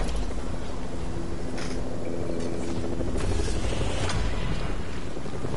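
A helicopter in a video game drones steadily with loud broadband rotor and engine noise, with a low humming tone running through it the whole time.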